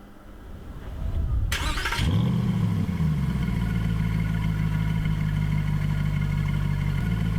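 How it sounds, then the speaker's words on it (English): A car engine cranks with a short starter whir, catches and fires up, then settles into a loud, steady, close idle that holds to the end without any talk. "As soon as we start the engine, the rev counter will rise."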